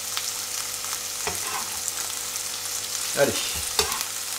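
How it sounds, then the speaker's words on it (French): Vegetables sautéing in a pan as the base for chicken wraps, a soft steady sizzle with occasional stirring scrapes and clatters near the end, one short spoken word over it. "on fait revenir ça 5 minutes"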